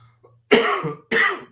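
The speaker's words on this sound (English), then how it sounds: "this cough that just came to me all of a sudden" Two harsh, close coughs in quick succession after a brief quiet moment.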